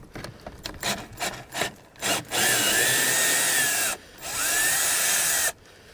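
A power drill backs out a screw on a Ford Ranger's towing mirror, whirring in two loud close bursts with a rising pitch and a short pause between them.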